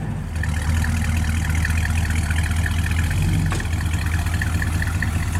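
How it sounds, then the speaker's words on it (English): A 1966 Buick Skylark convertible idling through its exhaust, a smooth, steady low rumble with an even burble, close and constant throughout. "Sounds good out the exhaust."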